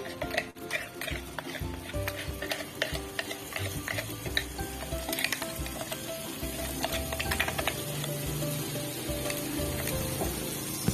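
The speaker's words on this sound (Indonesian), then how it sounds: "Sekarang kita siapkan wajan, tuangkan minyak, kemudian bumbu yang telah dihaluskan kita oseng." Ground spice paste sizzles in hot oil in a wok while a utensil stirs and scrapes it in a steady, busy rhythm, with frequent clinks of metal on the pan throughout.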